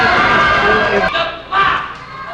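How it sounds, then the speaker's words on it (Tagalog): Boxing arena crowd at a WBO Intercontinental title fight, a loud continuous roar of cheering and shouting that dips briefly and then swells again. "The crowd getting into this fight."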